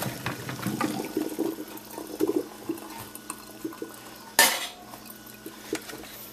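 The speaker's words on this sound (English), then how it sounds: "Potatoes are done doing their boiling thing, so we strain it." Metal pots and utensils clatter and knock as boiled potatoes are strained, water splashing and draining, capped by one sharp loud clang near the end.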